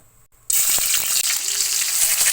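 Cardamom pods, cinnamon and bay leaves are dropped into hot oil in a kadai, bursting into a loud, steady hiss of frying after a quiet start, with small crackles running through it.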